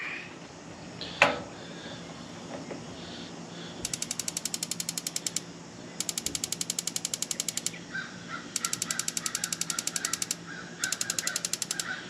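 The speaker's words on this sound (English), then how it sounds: "I was gonna say it sounds like it's sparking." Rapid bursts of sharp clicking sparks from a propane grill igniter come in four runs of a couple seconds each, over quiet background hiss, with one louder knock early on.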